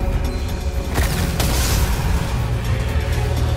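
A booming explosion in the video game Destiny 2, a loud burst lifting out of a steady rumble of action and fading back into it, with no talking over it.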